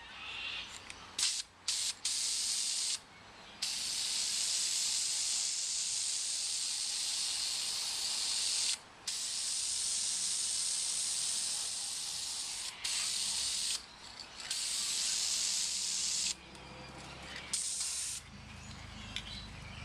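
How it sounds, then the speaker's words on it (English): An aerosol can of Chevy Orange engine enamel sprays close up onto the rocker covers of a 1960 Chevrolet Impala, giving a loud steady hiss in repeated long bursts with brief pauses between them. "So I've gone out and got myself in a just an aerosol can here."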